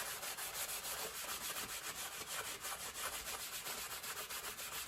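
Cloth rubs back and forth over a chalkboard sign surface that has been sprayed with rubbing alcohol, giving a steady, close, rhythmic swishing with no talking.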